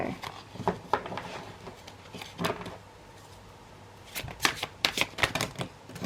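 Tarot cards being shuffled during a reading, with bursts of crisp riffling and flicking near and clear, separated by quieter pauses.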